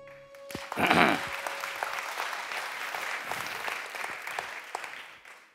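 An audience at a talk on smart cities and brands claps after a short tone, swelling quickly into steady applause that carries on for several seconds before fading.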